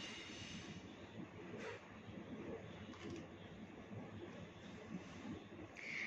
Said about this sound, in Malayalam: നമുക്ക് ട്രെയിനിൻ്റെ സൗണ്ടൊക്കെ കേൾക്കാൻ പറ്റും കേട്ടോ